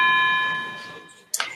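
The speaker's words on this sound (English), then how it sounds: "we have clocks that beep every hour" Electronic clock beeps marking the hour in a room: a clear sustained tone fading out, then a short sharp burst of sound, with talk present around it.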